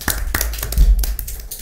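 A few sharp hand claps, spaced and uneven, close by and fairly quiet, with a low rumble beneath.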